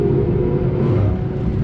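BMW M6 with its V10 engine driven hard on the road toward the Nürburgring, a loud close rumbling roar heard from inside the car, steady and strong across the short stretch with no voices.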